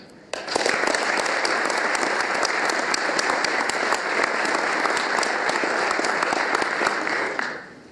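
A hall audience at a book promotion and memorial evening in Novi Sad bursts into sustained, dense applause that holds steady for several seconds, then fades quickly at the end.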